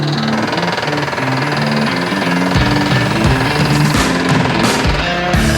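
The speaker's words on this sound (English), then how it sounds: "Drill the outer casing completely into the ground." A Mincon well drill rig drives outer casing into the ground with slow rotation, giving a loud, steady mechanical roar with rhythmic knocking and percussive pulses throughout.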